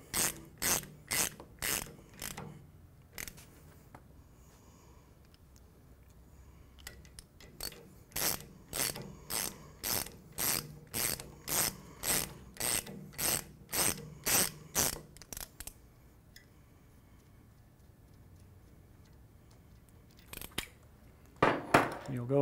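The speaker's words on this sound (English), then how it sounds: "Tighten your three bolts back up." Ratchet wrench tightening the bolts on a Hartzell Air Movement fan drive, rapid bursts of crisp clicking strokes repeated in regular runs, close and clear, with a quiet pause before a final short flurry.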